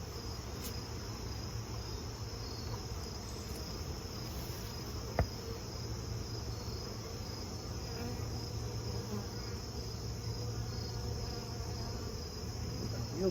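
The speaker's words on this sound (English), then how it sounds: "there's a lot of bees hanging around in the box" A steady, dense drone of honey bees in a hive box hums continuously, with a high thin whine running throughout and one brief tap partway through; no one speaks.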